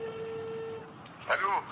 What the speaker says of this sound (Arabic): دق التليفون خلينا نشوف